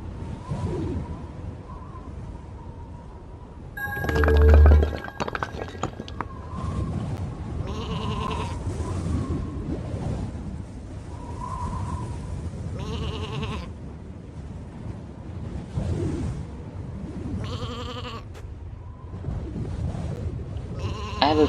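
Sheep bleat repeatedly in the video game Isle of Ewe, several separate calls spread across the scene over a steady game soundscape, with one brief louder burst early on.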